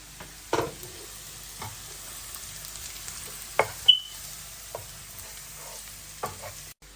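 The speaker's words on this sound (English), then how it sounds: "Now we're going to put our garlic inside and whisk it." Garlic stirred and whisked in a hot frying pan while cooking chicken mandi biryani, with a steady low sizzle broken by a few sharp scraping clinks of the utensil against the pan.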